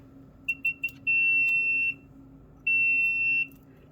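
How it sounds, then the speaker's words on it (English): A continuity tester's pulsing beeper sounds loud and close: three quick chirps, then two sustained electronic tones separated by a brief pause. "So that beeper does have a pulsing circuit in it, so it will beep intermittently."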